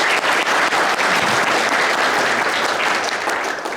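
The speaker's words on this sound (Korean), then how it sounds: "큰 박수로 맞이해 주시기 바랍니다" Loud, dense applause from a union convention audience welcoming a federation chairman to the stage, steady and continuous throughout without a break.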